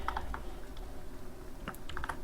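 Code is being typed on a computer keyboard: a few quick, quiet key clicks in small clusters with short gaps between them over a soft room hiss.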